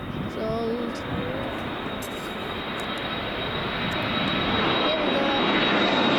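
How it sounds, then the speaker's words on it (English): A 28-year-old Jet2 Boeing 737-300 departing for Prague, its jet engines a loud continuous roar that swells steadily, with faint voices underneath. "Jet2.com going out to Prague here, 600 nautical miles, Boeing 737-300"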